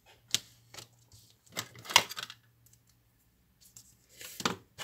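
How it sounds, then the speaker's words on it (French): A paper trimmer cutting through card for Stampin' Up! place cards, a few sharp separate clicks and short slicing scrapes spread out among quiet pauses, close and fairly soft, no talk. "Alors moi je le coupe avec le massicot."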